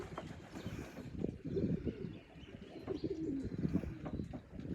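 Pigeons on a rooftop in the Hawaiian rain give soft, low, rolling coos in repeated phrases, faint and somewhat distant under a steady background hiss.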